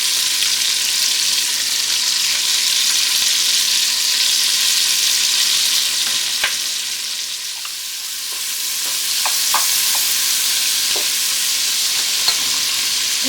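Chopped onion fries in a pan with a loud, steady, close sizzle and hiss, with a few light spoon clicks as it is stirred, a brief dip in intensity partway through, and no talking.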